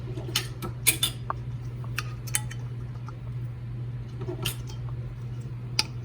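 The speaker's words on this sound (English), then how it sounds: "now you can go ahead and place the lids on all of your jars." Metal lids set onto glass canning jars filled with peaches give a few light, sharp clicks and taps, spaced irregularly over a steady low hum, fairly quiet and close.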